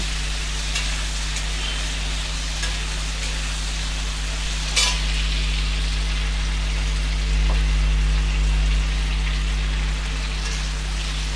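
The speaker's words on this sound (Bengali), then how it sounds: "এগুলো দেওয়ার পরে এই যে ভালো করে আলুটাকে নাড়িয়ে ভেজে নেব, লাল করে আলুটাকে ভেজে নেব।" Potatoes dusted with turmeric stirred and fried in a hot pan: a steady close sizzle runs throughout, with a brief sharper scrape near the middle.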